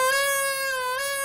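Rice straw pipe toy, an old-time Thai rice-field plaything, blowing a single sustained reedy wail that bends slightly in pitch like a crying child, close and clear with no talk.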